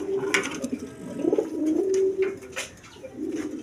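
Pigeons kept for breeding, with eggs and squabs, coo repeatedly in low, throaty rolls that overlap one another. The cooing is close and steady, with no talking, and faint fluttering and shuffling can be heard in the background.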